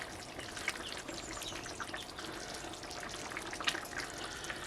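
Water is poured into a pot of pasta with sausage, giving a faint, continuous trickling splash with small spikes and no speech.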